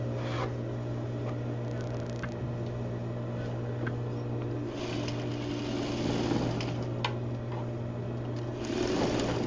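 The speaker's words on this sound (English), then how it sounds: "we're going to stitch this little piece together at the top, just the diagonal" A sewing machine stitches lining pieces together along a diagonal seam, its motor whirring in a steady close drone for the whole stretch with faint handling clicks and no talk.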